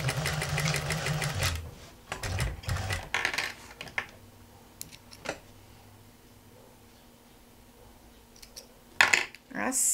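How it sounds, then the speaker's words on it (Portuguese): A sewing machine runs in quick bursts while stitching a diagonal seam on two patchwork pieces placed right side to right side, with short pauses, faint clicks and brief handling noises between runs. "passa um risco na diagonal e costura"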